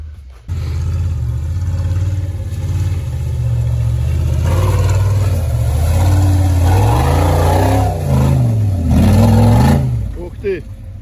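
An off-road vehicle's 3.6-litre engine hums at a steady low pitch, then revs up and down in rising and falling swells, with a person talking over it.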